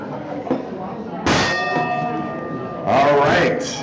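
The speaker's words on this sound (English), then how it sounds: "So let me ring the bell." A bell rings out to open a club meeting, one loud resonant clang with a lingering tone followed by a second strike about a second and a half later, with people talking around it.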